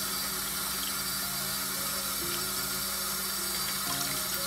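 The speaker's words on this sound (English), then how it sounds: "I'm just going to turn on the water. I don't want to drip in my dish pan." Tap water runs steadily into a kitchen sink beside a dish pan, a loud continuous splashing rush that fills the whole stretch with no talking.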